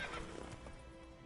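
Roach the horse neighs in The Witcher, a short, faint whinny with soft hoof clops beneath it.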